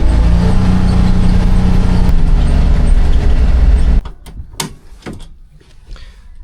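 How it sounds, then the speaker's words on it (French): A quad bike engine rumbles loudly and close for several seconds, then cuts out, followed by a few clunks and quiet rustling. "on a des petits quads, mais ils sont bruyants comparé au Can-Am"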